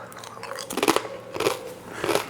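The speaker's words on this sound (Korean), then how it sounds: "바삭바삭함이 입안에서 그 과자 같고" Crisp, very thin five-grain scorched rice crackers (nurungji) chewed close to the mic, with three bursts of loud crunching and brief pauses between bites.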